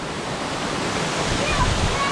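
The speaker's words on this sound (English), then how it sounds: "The secret waterfall" Water from a secret waterfall on a hike rushes as a steady, loud broadband roar that holds evenly throughout, close to the listener with no break.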